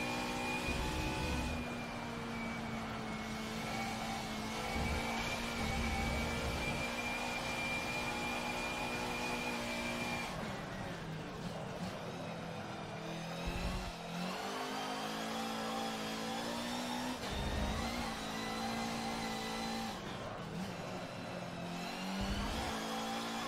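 Race car engine in a racing video game, a continuous loud drone with sustained high-pitched whine and repeated pitch drops and climbs as the car shifts and accelerates, running steadily throughout with no talk.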